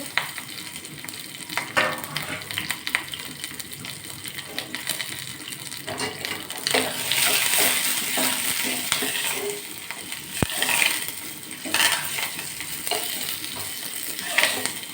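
An onion tempering with mustard seeds and chili for a ridge gourd chutney sizzles and crackles steadily in a pan while being stirred. It stays close and continuous, with brief louder bursts of frying and scraping and no talking.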